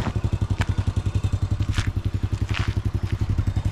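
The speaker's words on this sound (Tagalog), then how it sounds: "Mabuti magaan yung ating motor." A light motorcycle with rough-road tyres labours over a soft, bumpy dirt track, its engine thumping in a steady close rhythm with occasional clatter of loose ground underneath.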